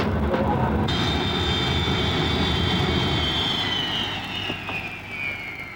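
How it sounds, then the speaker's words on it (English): A de Havilland DH.110 jet aircraft flies by in 1952 with a steady loud roar and a high whine that slowly falls in pitch, easing slightly near the end. "the men who flew them first, like John Derry, test pilot of the de Havilland 110"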